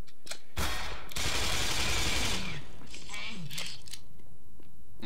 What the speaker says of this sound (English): You can see that submachine gun really is powerful. It sounds the part too.